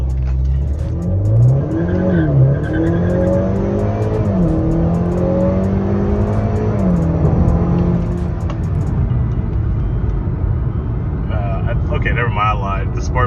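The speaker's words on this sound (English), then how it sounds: "The sport mode definitely is more rowdier than normal mode because I got wheel spin this time." A 2020 Honda Accord 2.0T tuned with KTuner V2 launches hard in sport mode with wheel spin: a loud, close engine rev climbs through gear changes while tires squeal, and someone speaks over it.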